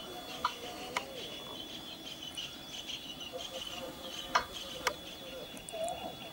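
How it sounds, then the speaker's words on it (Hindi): Birds call at a lotus pond with short, sharp chirps over a steady hum of insects and crickets, the calls sparse and moderately distant. "ये पक्षियों की आवाज़।"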